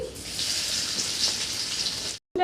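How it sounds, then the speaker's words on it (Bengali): Dried red chilli, black cumin and garlic frying in hot oil, a steady close sizzle that starts abruptly, holds even for about two seconds, then cuts out briefly. "তেলের মধ্যে দিয়ে দিচ্ছি একটা শুকনো লঙ্কা কালো জিরে দেবো রসুন"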